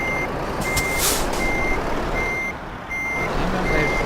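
A repeating high warning beep for low air pressure inside a truck in Euro Truck Simulator 2, sounding at steady intervals over a loud, continuous engine and road rumble.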